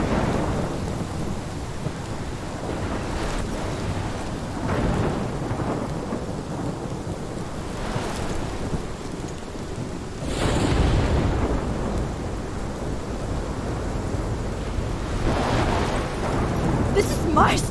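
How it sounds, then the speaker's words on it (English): Heavy thunderstorm in the game Life Is Strange, constant rain hiss with deep rolling thunder swelling several times, loud and near, with voices speaking faintly underneath. "This is my storm. I caused this."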